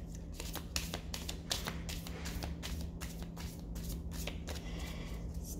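Deck of tarot cards shuffled by hand, a close run of quick riffling flutters and soft slaps repeating in a steady rhythm over a low constant hum.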